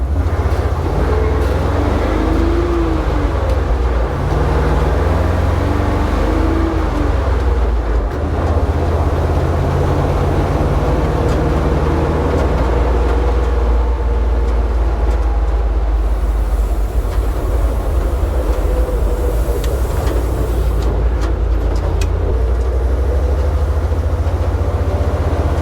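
A 1971 Dodge D700 ramp truck on the road, its engine and wind roar loud and steady inside the cab with the back windows all out, a deep rumble under broad rushing noise for the whole stretch.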